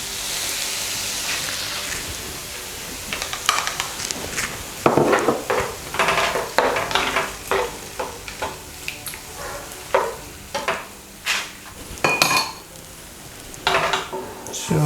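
Prawn curry with coconut cream cooks in a pot, with a steady sizzle underneath and repeated scrapes and clinks of a utensil stirring against the metal.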